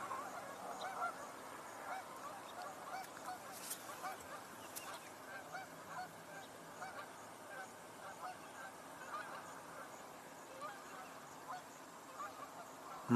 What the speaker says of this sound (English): Oh, geese in the air.